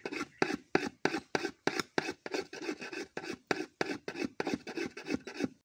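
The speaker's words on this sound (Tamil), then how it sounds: "நல்லா கெட்டியாகவும் விடாமல் ஒரு பத்து நிமிஷம் கிண்டி விட்டுக்கிட்டே இருக்கணும்" Thickening palm sap jaggery is stirred in a pan, a ladle scraping back and forth in a quick, even rhythm of about sixteen close, rasping strokes with no talk.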